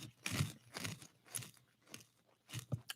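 Crunchy little bean-like snack, resembling a legume or peanut, bitten and chewed close to the mouth in several loud crunching bursts with short pauses between, no talking.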